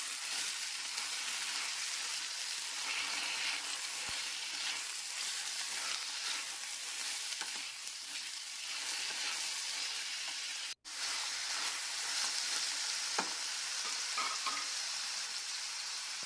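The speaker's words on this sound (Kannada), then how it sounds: "ಈಗ ಇದಕ್ಕೆ ಕಟ್ ಮಾಡಿರೋಂಥ ಸೋರೆಕಾಯಿನ ಹಾಕ್ಕೊಳ್ತೇನೆ. ಎಣ್ಣೆಯಲ್ಲೇ ಫ್ರೈ ಮಾಡ್ಕೋಬೇಕು ಇವನ್ನ." Cut bottle gourd pieces fry in oil with softened onions, giving a faint, even sizzle that runs without a break, with one sharp click partway through.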